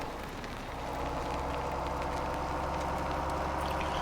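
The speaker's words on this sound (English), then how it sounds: "Although to be fair, it is raining" Steady rain falls in Farming Simulator 17, a constant dense hiss over a low engine-like rumble, continuous and even throughout with no talk.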